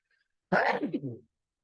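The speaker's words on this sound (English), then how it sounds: "I had the sneeze right there real quick" A single sharp sneeze, close and sudden, trailing off into a short voiced exhale in otherwise near silence.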